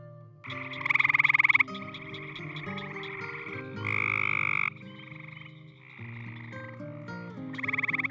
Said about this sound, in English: The 2 cryptic species of gray tree frog can be distinguished by differences in calls and chromosome